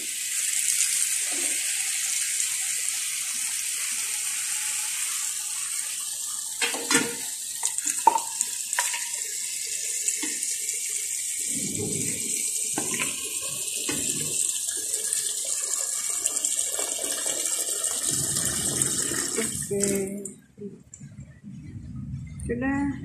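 Water poured into a pot of braised pork trotter stew with cinnamon and star anise, a steady rushing pour and sizzle running throughout, with scattered clatter and a person speaking over it before it cuts off near the end.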